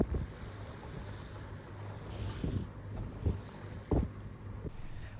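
A sailboat under way overnight on the open sea between Arbroath and the Orkney Islands, with steady wind rushing over the microphone, water washing along the hull and a few soft knocks from the rigging, no voices.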